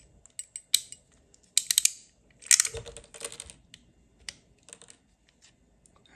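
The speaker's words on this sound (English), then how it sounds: "we have our crimper here" RJ45 pass-through plug being crimped onto CAT6 cable with a hand crimper, giving a few sharp clicking snaps and crunches in bursts, close and fairly loud with quiet gaps between them.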